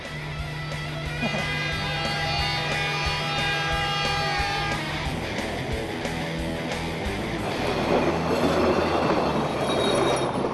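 The Savannah Lander train rolls along the rails with a steady rumble and rhythmic clacking, wheels squealing faintly, then the noise broadens into a rushing roar.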